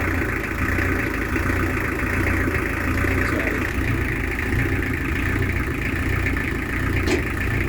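Steady boat engine idling with a low, even chugging drone, no talking, one faint click near the end.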